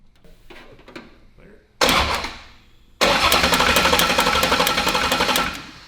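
Coyote V8 swapped into a Fox-body Mustang cranks and catches, a loud broadband burst that drops back, then fires again into a steady, rough rumble for a few seconds; quieter talk and shop noises come first.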